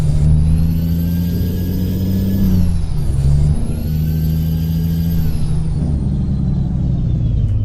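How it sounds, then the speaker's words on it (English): A Kenworth T600 truck engine revs in Euro Truck Simulator 2, a loud steady low drone that climbs in pitch, dips briefly near the middle, then rises again, with a high whine riding on top. "Let's give it some revs."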